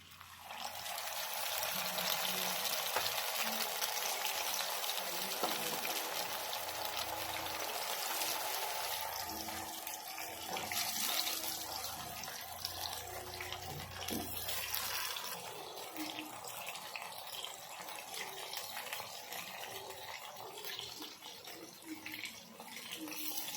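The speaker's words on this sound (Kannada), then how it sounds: "ಈಗ ನಾನು ಇದನ್ನು 1 ಅವರ್ ಮ್ಯಾರಿನೇಟ್ ಮಾಡ್ಕೊಂಡಿದ್ದಂಥ ಫಿಶನ್ನು ನಾನು ಇದ್ರೊಳಗೆ ಎಣ್ಣೆ ಒಳಗೆ ಹಾಕ್ಕೊತೇನೆ ರೀ" Fish marinated for an hour fries in hot oil over a medium gas flame, a dense, continuous hiss and bubbling that holds steady for over twenty seconds with small shifts in intensity.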